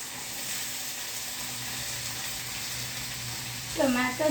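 Tomatoes hitting a hot frying pan produce a steady, even sizzling hiss throughout, and a voice speaks briefly over it at the end.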